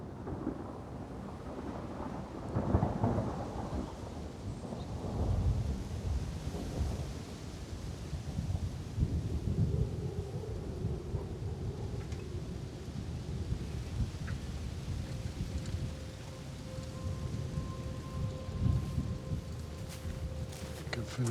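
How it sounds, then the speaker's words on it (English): Rain falls steadily while low thunder rumbles and rolls in long swells, with gusts of wind; a faint tone hums near the end. "Sounds like rain, too."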